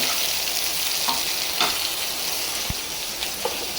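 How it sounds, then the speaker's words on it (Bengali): Pieces of snakehead fish fry in a pan, giving a steady, close sizzle with faint crackles and one sharp low knock partway through; no one speaks. "শোল মাছগুলো আগে একটু ভেজে নিচ্ছি"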